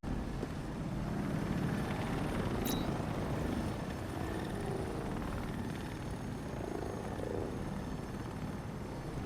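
A drone hovers in Batman: Arkham Knight with a steady, loud rotor drone and a whirring hum that holds without pause, plus a brief high whine partway through.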